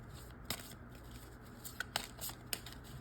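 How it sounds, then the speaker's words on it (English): A deck of cards is shuffled by hand in a quiet room, giving a few short, sharp riffles and flicks spaced irregularly over low background hum. "So I'm just going to shuffle."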